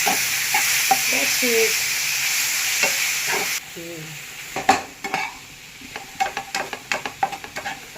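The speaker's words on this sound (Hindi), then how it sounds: "अब पोहे डालने के बाद इसको अच्छे से चला लूँगी" Poha being stirred in a frying pan, a soft sizzle under scraping spoon strokes, then sharper repeated clinks and scrapes against the pan toward the end, close and alone without talking.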